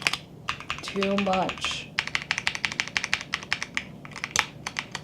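Close, fast typing on a computer keyboard fitted with changed keycaps, a dense run of crisp clacks filling most of the stretch, with someone speaking briefly near the start.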